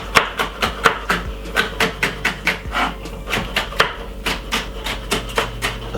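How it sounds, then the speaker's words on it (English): Green pepper chopped finely with a knife on a board for a Jamaican fried breadfruit and dumpling dish, a quick, even run of crisp close taps about three or four per second. "We're going to cut off a little piece of the green pepper. And we're going to cut it up really finely like this."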